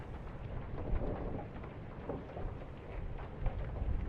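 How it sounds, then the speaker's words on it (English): Steady rain patters indoors in the video game Return of the Obra Dinn, with low rumbles of thunder rolling underneath; no voices, a continuous wet hiss. "Why is it raining inside?"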